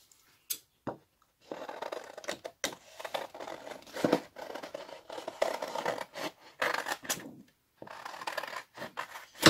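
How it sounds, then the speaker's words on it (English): Scissors cutting paper up close, a run of quiet crisp snips and scraping slides in irregular bursts separated by short pauses. "I'm going to cut it out."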